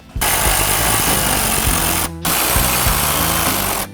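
A power tool drives 8mm bolts into the upper grille of a 2024 Ford Ranger Raptor during a light bar install, whirring loudly and steadily in two close bursts with a brief pause between them.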